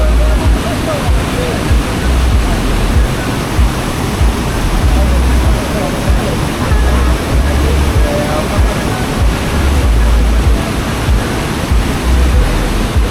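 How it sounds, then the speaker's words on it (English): Busowoko Falls in Jinja, Uganda roars loud and close, a dense, unbroken rush of falling water with heavy low rumble and no pauses. "Just hear the sounds of the water,"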